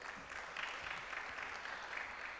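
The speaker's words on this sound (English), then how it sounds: "a round of applause for Uganda once more" Audience applause at a Science Week 2023 event honoring Uganda, a steady wash of many hands clapping in a large room, moderately distant and sustained throughout without pause.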